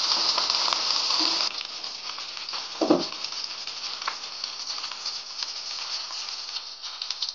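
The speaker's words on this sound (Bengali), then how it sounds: "রান্নার তেল যেটাই হোক দিয়ে দেবেন, পর্যাপ্ত পরিমাণ দিয়ে এভাবে ভেজে নেবেন।" Chepa shutki, a dried fish, frying in plenty of cooking oil over medium heat: a steady close sizzle with one brief knock partway through.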